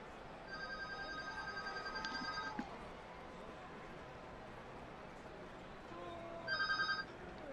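A telephone rings twice in a room, electronic tonal bursts near and moderately loud, the first lasting about two seconds and a shorter second ring later, separated by quiet background hiss.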